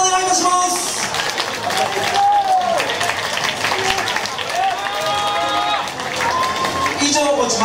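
Crowd applause for the winning fighter at a Muay Thai event, dense clapping running the full length while music with tonal lines and crowd noise mix in underneath.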